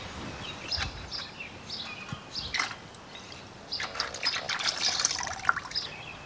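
Coolant draining from the cooling system of a 2008 Hyundai Elantra, a continuous trickling, splashing liquid flow with small drips and gurgles, close and moderately loud.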